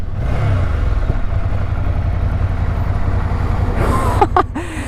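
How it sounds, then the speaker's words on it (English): A 2020 Ducati Monster 797+ L-twin engine runs steadily with a loud, close low throb and rhythmic pulsing, tapering near the end as brief higher tones pass. "But that L twin, man, it sounds so good."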